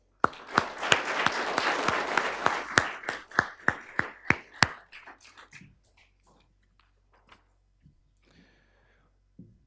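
Applause at a council inaugural meeting welcoming the council-elect for the 2025 to 2029 term: dense clapping for about five seconds that thins into scattered, fading individual claps and then near silence.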